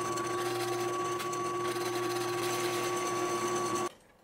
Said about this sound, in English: Using tape as a guide, I am drilling down 1¼ inches.